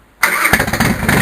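A cold, fuel-flooded Fatboy motorcycle engine is cranked and struggles to start, giving a sudden loud, close churning engine burst after a moment of quiet.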